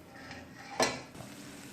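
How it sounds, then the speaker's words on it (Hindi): Boiled turnips are stirred into cooked masala in a pot, giving a brief soft scrape and clink of the spoon with a gentle sizzle, quiet and close. "ये तमाम जो मेरे पास उबले हुए शलजम पड़े थे वो मैंने इसमें ऐड कर दिए और इसे मिक्स करूँगी"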